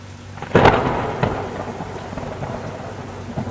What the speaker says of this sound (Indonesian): Dari arah kejauhan terdengar suara gemuruh dan awan di langit tampak hitam pekat